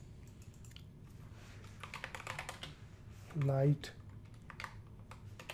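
Typing on a computer keyboard while writing text into a PowerPoint report design, a steady patter of soft clicks under intermittent talk, with a brief louder tone midway.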